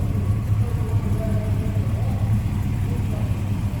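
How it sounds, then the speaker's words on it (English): A GM ZZ crate engine idles in a 1956 Willys station wagon, a steady low rumble with a loping pulse, heard close and loud throughout. "Nice little rumble coming out of that ZZ motor"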